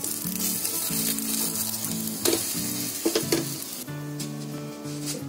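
Potato amboli roasts on a hot tava with ghee, giving a continuous close sizzle with occasional scraping clinks, over a soft musical backing.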